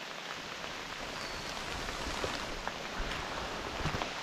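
Rain falls steadily on a hillside forest, a soft dense hiss of drops on leaves and ground with occasional louder patters, fairly quiet and without voices.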